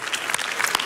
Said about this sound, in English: Please join me in applauding our two CEOs.